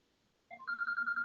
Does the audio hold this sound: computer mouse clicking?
no